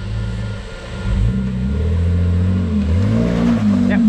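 A Jeep crawls slowly along an off-road track on Little Red in the Glasshouse Mountains, its engine a steady low rumble that swells a little as it moves, close by and with no talking over it.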